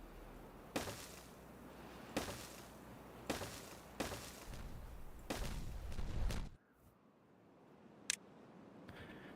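Blasts from the city-building video game Timberborn, about five sharp booming bursts every couple of seconds over a rumbling, crackling din, which then drops away to quiet with one last faint crack.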